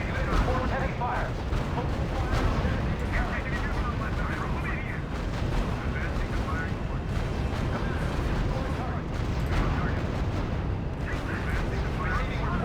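Tank gunfire and artillery in the R.U.S.E. strategy game, a dense, continuous barrage of booming shots and blasts heard throughout.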